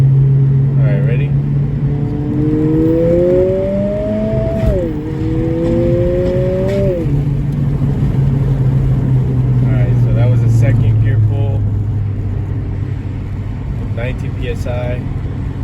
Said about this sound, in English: Go ahead and do some pulls real quick. Second gear, third gear right now